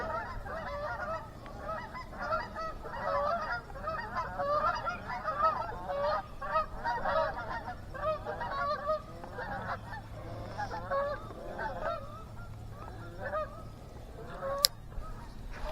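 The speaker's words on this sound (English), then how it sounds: "The geese are back." A flock of geese honks continuously in a dense, overlapping chorus, moderately loud and somewhat distant, against a low background rumble.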